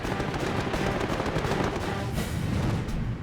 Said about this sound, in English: The skies above Lake Balaton explode with the roar of piston engines and the staccato burst of machine guns and cannon.